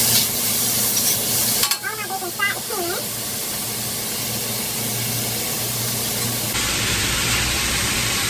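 Bacon fries in a pan with a loud, continuous close sizzle and hiss. A voice speaks briefly over it early on, and the spitting then grows sharper toward the end.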